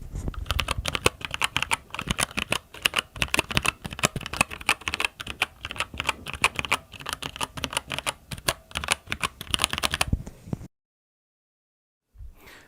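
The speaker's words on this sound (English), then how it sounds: "I'm just going to let you listen to the Keychron keyboard, and that's got the Gateron switches" Typing on a Keychron keyboard fitted with Gateron switches, a dense run of close, clacky keystrokes for about ten seconds, then silence.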